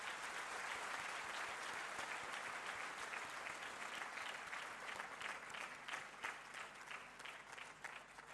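Sustained applause from a large audience honoring awardees at a ceremony celebrating exporters' awards, steady dense clapping filling the hall throughout without pause.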